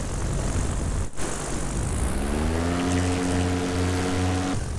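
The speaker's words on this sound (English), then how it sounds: "The sound and the feel of the motor are confidence inspiring for sure." Moster 185 Plus MY25 paramotor engine running in flight, a loud steady buzzing drone with wind rush that climbs into a strong tonal whine partway through, then cuts off abruptly near the end.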